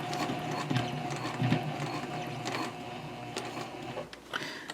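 A sewing machine stitches fabric for a mini backpack, giving a fast, even mechanical whir and clatter of the needle with small ticks and a brief pause as the work pivots, close and fairly loud.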